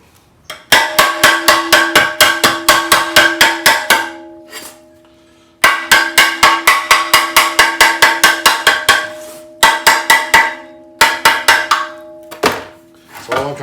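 Metal body hammer pounding the lip of a muffler exhaust pipe on a Dart Swinger, loud ringing clangs in fast bursts of repeated blows separated by short pauses, no talking.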